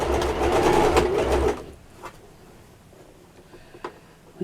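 A sewing machine runs a half-inch seam on a small apron in a quick steady burst for about a second and a half, then stops, leaving quiet room tone with a few soft clicks.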